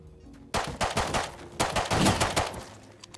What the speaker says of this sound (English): Where's he even shooting me from?